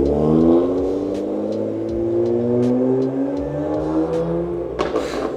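A freshly tuned BMW M3 F80 on Bootmod3 stage 2 with methanol injection revs up close by, its engine note climbing and falling in smooth sweeps, then ends with a sharp burst of noise.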